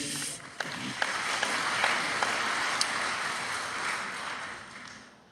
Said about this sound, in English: One last round of applause for that committee.